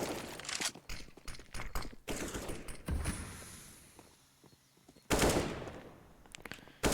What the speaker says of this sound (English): certainly getting sprayed down from long distance from Zodic's AK